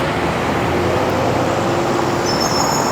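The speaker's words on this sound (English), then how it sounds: "I ain't gotta wait for that traffic to go again." Road traffic passing by: a loud, continuous broadband roar of vehicles close at hand, with a faint high whine toward the end and no talking.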